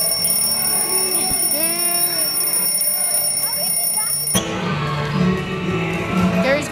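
A school fire alarm rings with a loud, shrill, continuous tone over a noisy crowd and people talking nearby. It stops partway through while the crowd chatter carries on.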